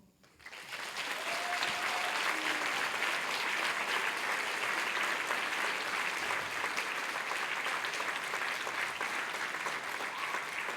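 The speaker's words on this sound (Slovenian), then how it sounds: "Zdaj pa dajte še sebi en aplavz in društvu." Audience at a charity concert breaking into applause, a dense sustained clapping from a crowd that swells within the first second and holds steady to the end.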